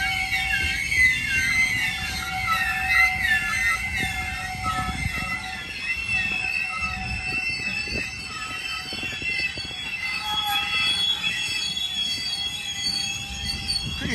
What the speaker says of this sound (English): Pretty sure it's an ethanol train.